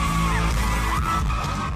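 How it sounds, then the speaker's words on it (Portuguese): A man yells out in pain on a concert stage after a drone accident, a single strained cry over loud, steady crowd and venue noise. "ele grita de dor."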